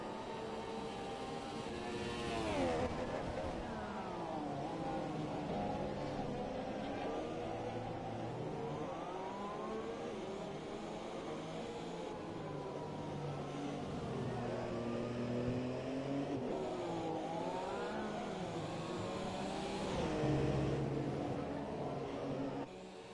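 An F1 2018 race car screams through a flying lap, its engine holding a steady high whine that rises and falls through gear changes, continuous and fairly distant throughout.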